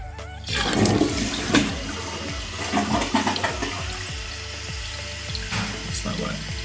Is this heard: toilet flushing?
yes